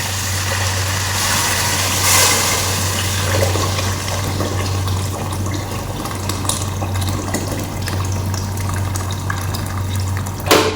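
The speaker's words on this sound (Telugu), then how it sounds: "ఇవన్నీ వేసిన తర్వాత వేడివేడి నీళ్ళు అయితే వేసేయండి" Hot water pours steadily into a pot of rice being cooked as Arabic-style yellow rice, a continuous splashing rush of liquid lasting several seconds with a low background hum and no talking.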